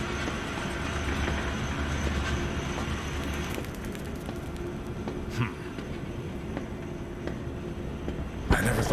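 A train in the video game Zoochosis rumbles steadily along with a low continuous drone, a few clanks and a sharp metallic burst near the end.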